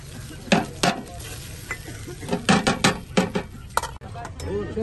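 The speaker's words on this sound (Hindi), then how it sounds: "दाल माश एक बना लें अच्छी सी, तड़का लगा के लाना यार।" Frying a tempering for dal mash in a pan: oil sizzles steadily while a utensil scrapes and clinks against the pan in irregular bursts, close by, with some talk in the background.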